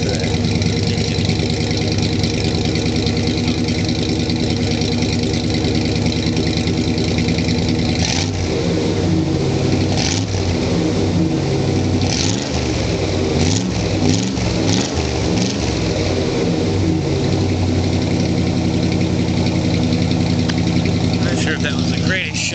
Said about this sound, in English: You guys get a good glimpse of that engine.